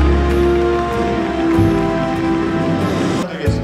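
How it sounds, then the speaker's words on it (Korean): Audience applause greets the opening declaration of Korea University's 30th-anniversary homecoming for the class entering in 1994, a dense rain-like patter of many hands under steady tonal music throughout, fading near the end. "박수 한번 쳐주시고요."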